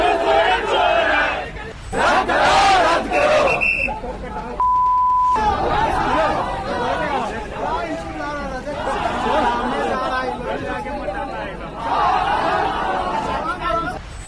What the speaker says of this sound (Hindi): सिर्फ छात्रों की भीड़ नजर आ रही है, जो ट्रेन और रेलवे स्टेशन से ही सोरेन सरकार के खिलाफ नारे लगा रही है